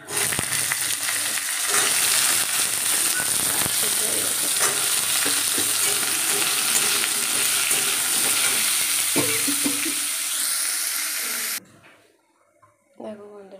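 Mango chutney with tempered spices sizzles loudly and continuously in a pan, with stirring scrapes throughout, before the frying cuts off near the end leaving quieter clatter.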